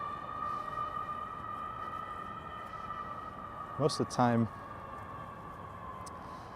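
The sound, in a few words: sirens on highway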